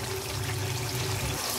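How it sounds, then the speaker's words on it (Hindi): Water pours steadily into a cooking pot while a rice dish is being prepared, a continuous close splashing rush that holds at an even level throughout, with no talking. "ये हम इसमें डाल रहे हैं जी पानी।"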